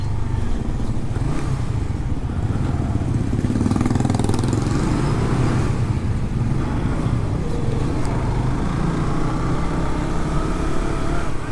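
A Suzuki GSX-S150 motorcycle ridden on the road, its engine droning loudly and steadily close by with wind rush, holding an even note with slight swells in throttle.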